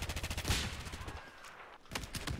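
Rapid automatic gunfire in a video game, a dense burst of repeated shots that pauses briefly, then resumes in another fast volley, loud and close.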